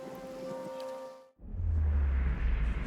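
Steady rain hisses across the scene in Pillars of Eternity, arriving after a held musical tone ends abruptly, with a dense broadband wash and a low rumble underneath.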